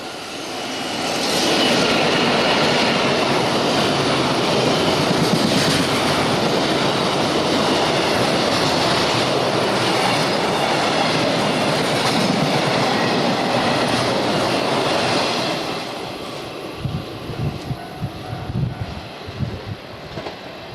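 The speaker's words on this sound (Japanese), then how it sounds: "今度は津軽海峡線を下り貨物列車が通過。" A downbound freight train on the Tsugaru-Kaikyo Line rushes past a narrow station platform, a loud sustained roar of wagons lasting about fifteen seconds before fading to rhythmic wheel clatter as the last cars go by.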